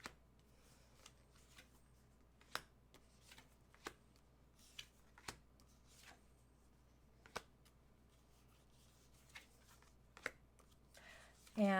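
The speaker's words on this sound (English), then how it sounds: "I'm just letting him shuffle, and it looks like he's almost done." Tarot cards being shuffled by hand during a quiet live reading, heard as faint, sporadic riffling clicks and snaps spread across the stretch, with a louder burst at the very end and no speech.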